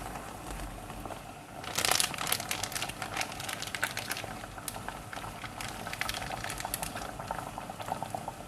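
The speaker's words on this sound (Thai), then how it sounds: "ต้มนะคะต้มกับเนื้อบดให้น้องไปเลยเนาะ" Minced meat and liver simmer in vegetable cooking water for a dog's meal, a steady close bubbling boil with crackling pops that grow busier partway through.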